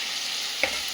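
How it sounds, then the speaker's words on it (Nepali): Ground spices with turmeric and chili are stirred in a hot frying pan, giving a steady close sizzle with one brief scrape of the spoon near the end. "मरमसला, बेसार, हल्दी, खोर्सानीहरू सबै मजाले मिक्स।"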